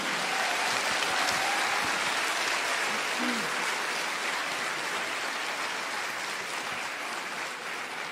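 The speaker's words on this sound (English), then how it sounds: "Let's make a big, warm applause for Sadhguru and his team" A large audience gives warm, sustained applause welcoming Sadhguru and his team at a gathering in Azerbaijan, a dense roar of clapping that stays loud and steady throughout with faint voices mixed in.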